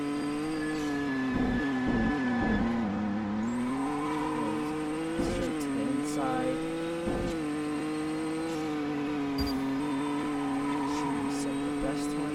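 A race car in the video game Project Trackday drifts with a steady engine drone that rises and falls through the revs, broken by short bursts of tire squeal. No one speaks.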